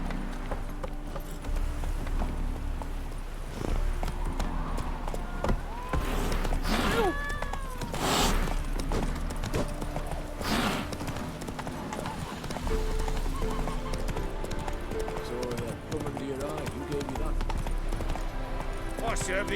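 Hoofbeats of a horse galloping in The Witcher 3 pound in a fast, continuous rhythm over game music, with a couple of neighs along the way and voices now and then.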